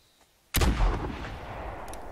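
A buffalo rifle fires once at a moose in The Hunter hunting game, a single loud close boom after near silence, followed by a long rolling echo that fades slowly.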